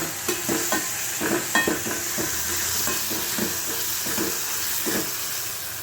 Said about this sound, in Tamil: வெங்காயம் தக்காளி ரெண்டையும் போட்டு இப்போ மூணையும் போட்டு நம்ம இதில் வதக்கி வதக்கிக்கிட்டு இருக்கோம்